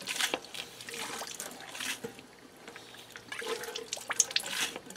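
A small multi-use transfer pump sputters as water and air gush and splash into a sink in uneven surges, with gurgling and spattering.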